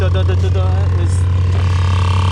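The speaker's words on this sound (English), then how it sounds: "as you start the car, you can probably hear the compressor working" An air suspension compressor on a Lexus RC F runs with a loud, steady low hum and mechanical drone close by, continuous throughout, while someone talks over it.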